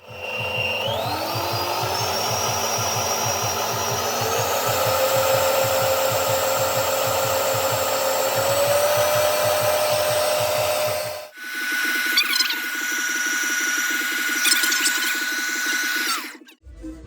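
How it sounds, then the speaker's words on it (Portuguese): Electric hand mixer whips chantilly cream made with a little milk powder, a steady loud whirring motor drone that changes pitch partway through and stops near the end, with no talking. "Aí eu vou bater aqui o chantilly."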